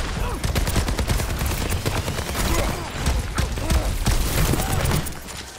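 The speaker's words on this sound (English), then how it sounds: "Why did I keep shooting him?" Rapid, dense gunfire and impacts crackle continuously in the video game Overwatch 2, loud and busy, with brief voice under the shooting.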